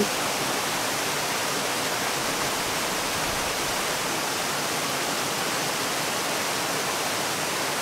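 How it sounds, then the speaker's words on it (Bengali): Heavy rain pours at Cheeyappara waterfalls in Munnar, a loud, unbroken roar of rushing water with no voices. "প্রচন্ড বৃষ্টি, এই বৃষ্টির মধ্যে চিয়াপাড়া ওয়াটারফলস।"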